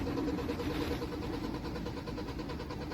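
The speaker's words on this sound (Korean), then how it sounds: "시동을 걸어보겠습니다" A 2021 Genesis G80 (RG3) cranks without starting in a repair shop, the starter motor turning the engine over in a steady rhythmic whir for several seconds, with faint talk underneath.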